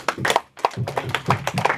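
Clapping at a press conference, a small group of hands beating in bursts for a couple of seconds, fairly close, with a short gap near the start and no speech over it.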